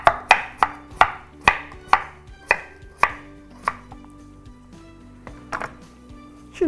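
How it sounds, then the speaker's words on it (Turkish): A knife chops raw potatoes on a cutting board, a dozen close, sharp strikes in a steady rhythm that slows and grows uneven toward the end, with no talking. "Patates nişastalı olduğu için böyle bıçak kaymaz, biraz zorlar sizi."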